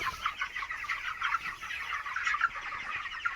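Chickens cluck continuously at close range in a farmyard with livestock, a dense busy chatter of overlapping clucks and calls that stays steady and clear throughout.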